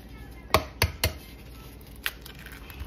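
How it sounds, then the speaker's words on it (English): Large eggs cracked into a bowl of flour for pancakes: three sharp taps close together, then a couple of fainter knocks, close and fairly quiet with no talking. "I'm gonna put my eggs, and then I'm gonna put 2 eggs in here."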